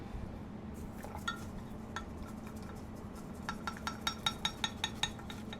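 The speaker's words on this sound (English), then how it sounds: "We are going to whisk that up." Seasoning mixture with Italian seasoning being whisked in a bowl for a honey garlic chicken and vegetable dinner: quiet clinking taps at first, then a run of sharper, evenly spaced metallic clicks over a low room hum.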